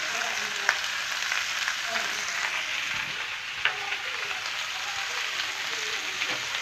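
Pallipalayam chicken with salt sizzles and crackles steadily in a pan while being stirred, with a dense continuous frying hiss and a few soft scrapes close by.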